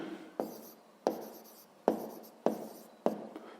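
Pen strokes scratch on paper at close range while numbers are written out by hand, five crisp taps and scribbles in a loose, uneven rhythm with quiet gaps between.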